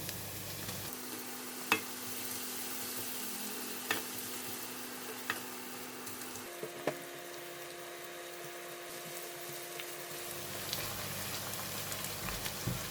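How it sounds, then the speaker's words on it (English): Shallots going into plenty of hot oil, a faint steady sizzle with occasional soft clicks and a low hum running underneath. "I'm going to put a lot of oil to fry it so we can check whether it's hot."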